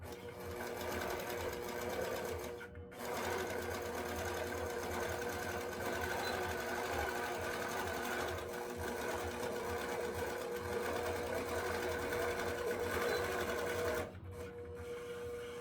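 A quilting machine stitches steadily while basting a quilt, giving a fast, even mechanical whir with two short pauses, heard close and fairly quiet.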